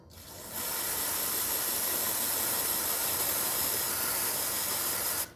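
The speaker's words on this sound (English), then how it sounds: "Actually, I'm gonna hit her with a shot of brake clean first." Close, steady aerosol hiss of brake cleaner sprayed onto a part of a 1935 John Deere BO tractor, one continuous burst of about five seconds starting abruptly and cutting off at the end, with no talk.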